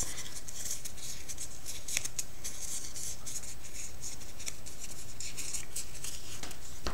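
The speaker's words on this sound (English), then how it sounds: "So you just want to wad them up into a little ball, unfold them, wad them up again." Sheets of paper being crumpled into a ball and unfolded again to soften them for a craft project, a continuous close crinkling and rustling with crisp crackles throughout and no speech.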